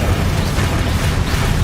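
A fiery blast from the Incendio spell in Hogwarts Legacy, a dense, continuous roaring burst of flame and crackle holding steady at high loudness for its whole length, with no talk over it.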